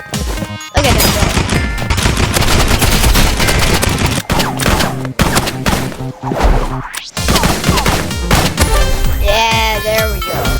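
Assault rifle fire in a video game comes as loud, dense, sustained bursts of rapid shots, with brief breaks between volleys, mixed with busy game sound and music.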